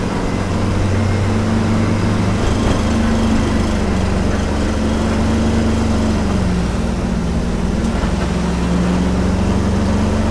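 Engine revving with a sticky throttle, holding a loud, constant high-rpm drone with a steady low hum that barely drops, heard close and alone without talk.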